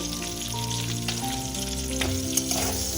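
Potato pieces seasoned with turmeric and salt fry in hot oil in a pan, giving a loud, continuous close-up sizzle with small pops and no talking.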